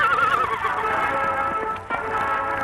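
A horse whinnies loudly and shrilly with a wavering, descending neigh during a fight with a huge buffalo, close and prominent, with faint hoof clatter and a brief thump near the end; no talking.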